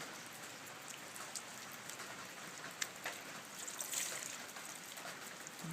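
Kerosene drips and trickles faintly from a squeezed foam lawn mower air filter, a soft, continuous patter with a few slightly louder drops.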